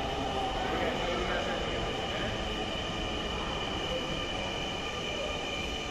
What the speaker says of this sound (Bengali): এটা উত্তরগামী ট্রেন মতিঝিল থেকে এসেছে।